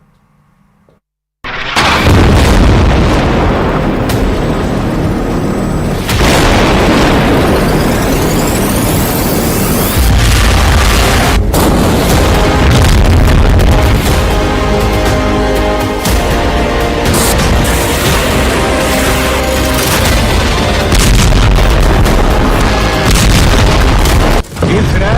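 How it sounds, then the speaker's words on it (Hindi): Bomb explosions in Gaza during the war give a continuous, loud barrage of heavy booms and rumbling blasts that starts abruptly after near silence and runs for over twenty seconds, dense and close. "इजरायल का बम गाजा में फटता है"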